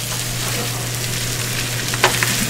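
About eight strips of bacon being mixed into a whole bag of frying hash browns on a hot griddle, a loud, constant sizzle with a few spatula scrapes and taps near the end.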